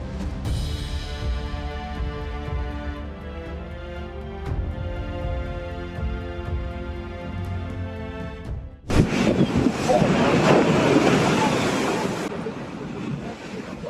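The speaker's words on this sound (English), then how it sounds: "In Brittany, a storm whipped up fierce waves that crashed over the seawall" Storm-driven waves crash over a seawall in Brittany: after several seconds of music, a loud, roaring surge of water bursts in and churns for about three seconds before easing.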